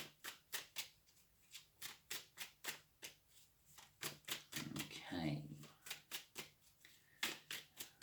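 Tarot cards are shuffled in quick, rhythmic riffles close up, with a brief spoken word partway through.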